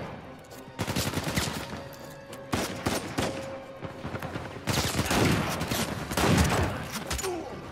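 Bursts of rapid gunfire in the action game Uncharted 4, loud clustered volleys at close range, separated by brief lulls, with a voice faintly audible underneath.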